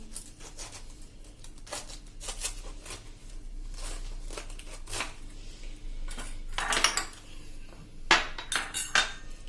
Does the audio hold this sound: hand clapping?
no